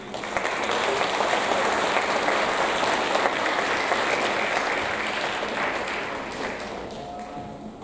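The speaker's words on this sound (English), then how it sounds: "Give them a round of applause, please." Applause from a school audience for teachers at a sixth grade awards ceremony, a steady wash of clapping that holds strong and then slowly thins toward the end.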